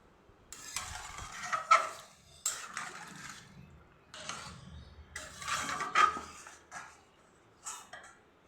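A pot lid being lifted off a cooking pot: a few separate clattering, rattling metal bursts with soft clinks, close by, with quiet gaps between them.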